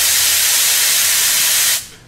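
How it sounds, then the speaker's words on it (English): Compressed air blasts from an aerosol can in one loud, continuous hiss lasting under two seconds, close up, then cuts off sharply. "when you spray for a long period of time, what happens is the can starts to get cold"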